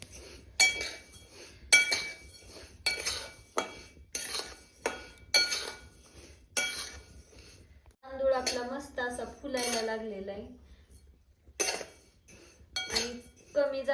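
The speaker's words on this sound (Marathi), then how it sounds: "आपल्याला तांदूळ जो आहे ना तो कमी जाळावरती भाजून घ्यायचा आहे" A metal spatula scrapes and clinks against a heavy kadhai as rice dry-roasts on low flame, in a steady rhythm about once a second. A voice talks briefly partway through.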